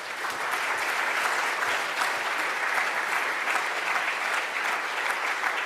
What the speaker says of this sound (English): So maybe you can help me as well with a round of applause for them.